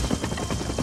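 Helicopter from a cartoon commercial, a steady low whirring drone with rapid rotor chop, loud and close, heard alone.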